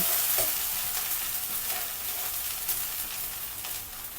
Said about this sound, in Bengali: আদার পেস্ট 1/2 চামচ। নিয়ে আমরা কষাতে থাকবো।